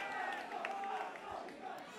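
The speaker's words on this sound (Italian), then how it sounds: "il tifo è scatenato oggi." A live rap battle audience cheers and shouts in a steady roar of crowd noise, close and continuous, with a few louder bursts rising from the mass of voices.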